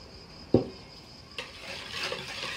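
Yeast, sugar, water and raisins are stirred together in a bowl, giving a sharp knock and then a soft, ongoing scraping swirl that stays close, with no talk.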